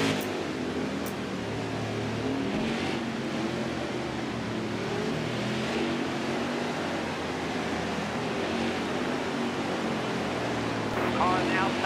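Racing trucks at Bristol's short oval track roar in a steady, continuous engine drone throughout, loud and unbroken, with spotter radio chatter heard over it.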